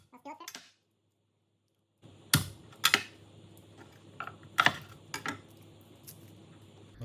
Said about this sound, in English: I'm going to mince some garlic